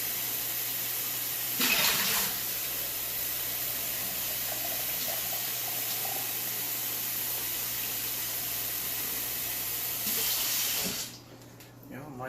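Cold water runs steadily from a kitchen tap, a continuous hiss with brief louder gushes near the start and end before the flow drops off, close by with no speech.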